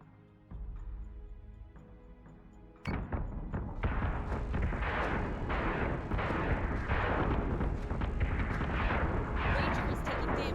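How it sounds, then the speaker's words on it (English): Missile launches and impacts from a Battlestar Galactica Deadlock space battle begin after a low hum, then a dense run of repeated booming thumps and bursts stays loud to the end, with voices underneath. "Missiles away."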